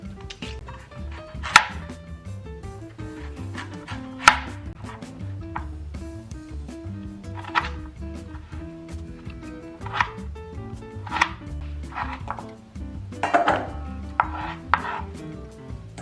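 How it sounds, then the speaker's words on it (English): A knife chops potatoes on a cutting board for zuppa toscana, with irregular sharp knocks spaced a second or two apart over a low background hum and no talking. "We're going to peel and chop our potatoes."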